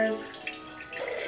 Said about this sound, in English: So I'm gonna pour it into these mason jars.